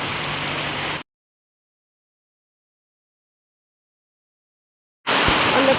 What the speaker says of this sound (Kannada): ಮಳೆ ನೋಡಿ ಜೋರು ಬರ್ತಾ ಉಂಟು ಇವತ್ತು.